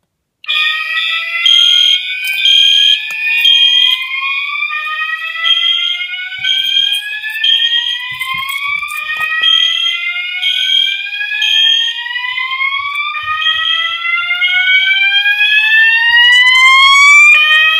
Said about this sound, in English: This is going to be the last time I activate the fire alarm system on my Silent Night SK-2.